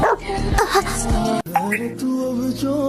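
A pet dog barks a few times in a home, with short yips mixed with talk and background sound in a comedy sketch.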